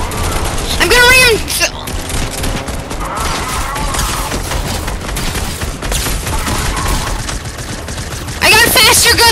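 Rapid bursts of gunfire ring out in a Fortnite trios match, with loud clustered volleys at the start and end and steadier shooting in between, mixed with game effects.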